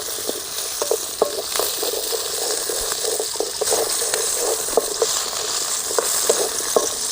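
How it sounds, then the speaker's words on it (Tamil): Onions and about thirty garlic cloves sautéing in a pan for an aloe vera tamarind curry, making a continuous loud sizzle dotted with frequent sharp clicks and scrapes of stirring, with no voices. "வெங்காயம் பூண்டு நல்லா வணக்க வேணும்"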